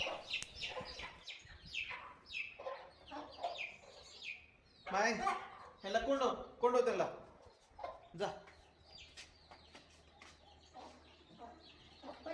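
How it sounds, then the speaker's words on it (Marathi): Several hens cluck and call close by in short bursts, with a few louder squawks in the middle and chirps from chicks around them. "माझ्या कोंबड्या जात आहेत"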